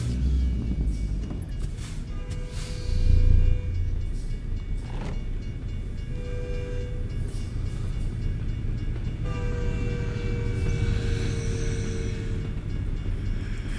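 A train in a truck-driving video game rumbles steadily past with a brief horn blast, its wheels and wagons clattering in a continuous low drone.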